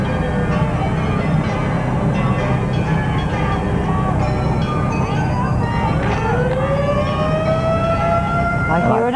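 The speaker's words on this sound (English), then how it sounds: "I hear another siren." An emergency siren sounds at a 1989 Christmas parade in Spartanburg, its loud wailing tones rising and falling over dense crowd and street noise, with a sweeping tone climbing near the end.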